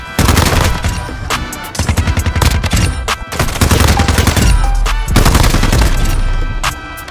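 Rapid automatic gunfire from a TR-76 Geist rifle in a Call of Duty game, loud sustained bursts with brief pauses between volleys and no talking.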